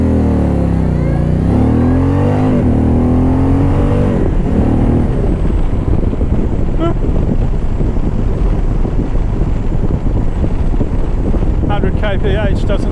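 Car accelerating hard up an uphill freeway on-ramp in sport mode, a loud engine rising through the gears with pitch sweeps and shifts, mixed with steady wind and road roar from inside the cabin.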